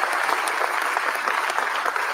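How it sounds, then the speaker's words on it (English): A crowd at a university basketball press conference for a new head coach breaks into a short, dense round of applause, loud and steady from start to finish. "Yes, another round of applause."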